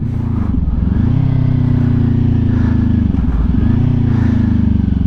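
A motorcycle shifting down from first through second to third with no rev-matching blip, engine droning loud and close with slight dips in pitch as each gear bogs in.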